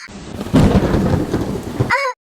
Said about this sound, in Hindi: मुझे बारिश में बिजली के कड़कने से डर लगता है